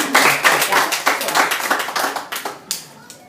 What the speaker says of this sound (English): Hey, you gotta clap for